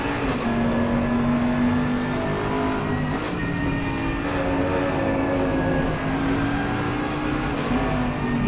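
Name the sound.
race cars racing at Suzuka in a racing video game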